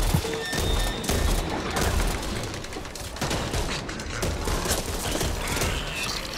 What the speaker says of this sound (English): Okay, shotgun time.